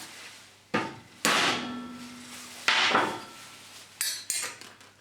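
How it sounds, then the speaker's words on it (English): Several sharp metallic strikes ring out close by, spaced unevenly, each with a bright clang and short decay, as a hammer taps a centre punch into a metal handle held in a vise. "I'm just going to centre punch it."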